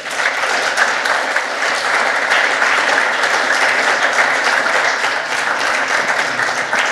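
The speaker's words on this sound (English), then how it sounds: "So one last round of applause, please" A roomful of people at a start-up pitching event gives steady, fairly loud applause, dense clapping that holds evenly for about seven seconds without a break.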